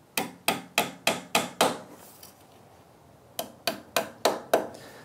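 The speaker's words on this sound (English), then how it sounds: "just a nail that I've sharpened to the end, and it acts as a nice little punch, just to punch it in with" Small hammer tapping a sharpened nail used as a punch into wood: a quick run of six sharp, evenly spaced taps, a quiet pause, then six more close up.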